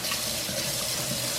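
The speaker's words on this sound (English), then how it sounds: "Warm water on." Warm water runs from a tap into a sink in a steady, close, even rush with no pauses and no voices.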